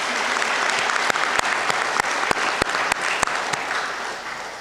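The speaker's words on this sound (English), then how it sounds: "Audience, please help me give this class of 2026 a round of applause for that." A medical school commencement crowd applauds steadily, with dense clapping and a few louder close claps standing out.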